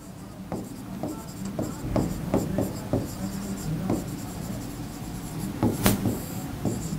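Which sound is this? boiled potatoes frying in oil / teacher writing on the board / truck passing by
teacher writing on the board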